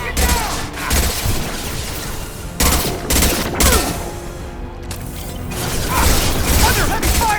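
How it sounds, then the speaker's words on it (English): Concussive shot gunfire in Mass Effect crashes out in repeated heavy, booming bursts separated by brief lulls, loud and close amid continuous combat noise. "Firing concussive shot!"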